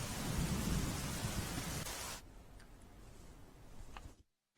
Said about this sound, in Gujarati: વલસાડ જિલ્લામાં સતત વરસાદની હેલી જામી છે